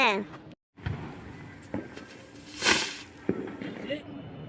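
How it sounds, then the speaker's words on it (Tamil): A fish-type firecracker set off during Diwali celebrations bursts with a loud crackling, hissing blast in the middle of the clip, following a few sharp pops, with a voice speaking faintly underneath. "நான் ஃபிஷ் வெடி வைக்கிறேன் எல்லாரும் தள்ளிப்போங்க"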